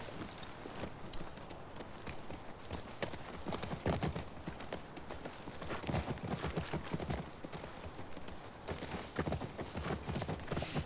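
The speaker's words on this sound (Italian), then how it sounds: "facci un altro giretto a cavallo" Horse hooves clip-clop steadily in The Last of Us Part II as the player rides, a continuous rhythmic trotting of thuds close by, with no talk over it.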